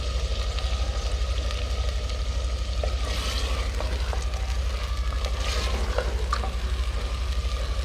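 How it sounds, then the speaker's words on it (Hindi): Desi chicken fries in a handi with a steady, dense sizzle and bubbling, broken by occasional small clicks and pops from the pan at close range. "देसी चिकन है, ये फ्राई होने में टाइम लेता है, तो आपने इसे अच्छी तरह फ्राई करना है।"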